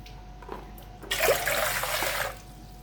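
Hot water poured into a container for a jelly dessert, a brief rushing splash lasting about a second and a half, close and moderately loud.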